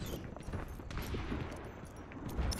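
An enemy turret in a live-streamed video game fires in a dense, rapid burst of crackling gunshots that rattle continuously over a noisy, muffled background.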